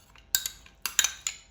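A metal spoon clinks against a bowl while spiced flour mixed with melted ghee is stirred for murukku, giving several sharp, bright taps in quick irregular pairs, close and clear with no talk.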